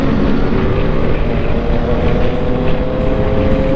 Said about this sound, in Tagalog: Ano kaya yung motor nila? Parang Dominar